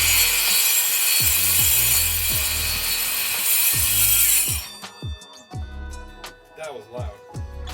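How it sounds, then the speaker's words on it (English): Hand sawing through wood in a steady rhythm of rasping back-and-forth strokes for several seconds, then the sawing stops and a few scattered knocks and soft handling sounds follow. "it was time to saw"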